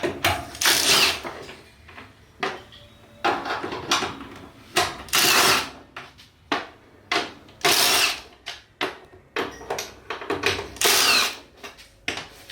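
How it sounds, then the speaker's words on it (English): Factory bolts being removed from the bed of a Yamaha YXZ UTV with a power tool, which whirs in repeated short bursts, close and loud, separated by brief quiet pauses. "you need to remove the OEM hardware on 9 locations"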